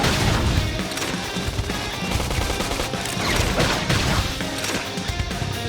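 Flame grenade attack in the Xenoblade Chronicles X battle, a dense, continuous barrage of crashing bursts and impacts layered over loud combat noise throughout.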